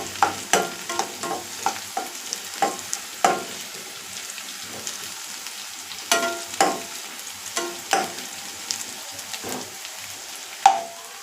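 A biryani topping fries toward golden brown in a pan, a soft continuous sizzle broken by regular spatula scrapes and stirring strokes roughly every second, close and clear with no talking.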